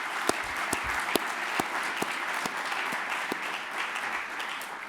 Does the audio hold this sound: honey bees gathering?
no